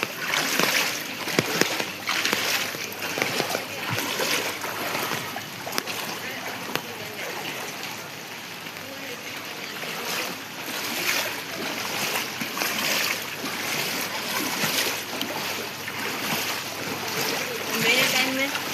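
Continuous splashing and sloshing through flooded streets at Golpark on a rainy night, a broad watery wash that swells and fades throughout, with a voice speaking over it.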